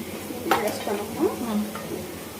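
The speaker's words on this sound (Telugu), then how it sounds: "ఆనియన్స్ బాగా ఫ్రై అయ్యాయి కదమ్మా, ఇంకా చికెన్ వేసేద్దామా?" Chicken tipped into a pan of fried onions gives a close sizzle with stirring scrapes and a light clatter of utensils, fading to a steady fry.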